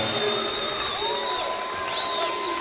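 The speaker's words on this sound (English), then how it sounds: "And a roar from the Tucker Center crowd." Crowd noise rises at the Tucker Center during a Florida State preseason exhibition basketball game, a steady roar and cheering with whistles and shrill tones over it, and commentary faintly audible.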